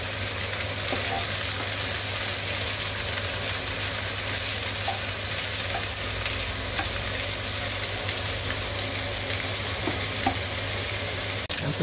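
Poultry offal fries in a pan with a loud, unbroken sizzle while it is stirred, and faint clicks of the utensil sound through the hiss from start to finish.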